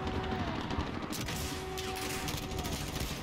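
Gunfire in Call of Duty Modern Warfare Special Ops, a dense burst of shots layered over game noise and a constant low rumble.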